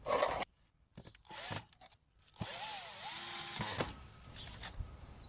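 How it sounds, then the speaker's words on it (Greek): A power drill drives screws into wooden supports of a planter box, with several short, close whirring bursts separated by brief pauses. "Και βιδώνω. Το ίδιο θα κάνω και στο άλλο στήριγμα, σε όλα τα στηρίγματα έβαλα από 2 βίδες."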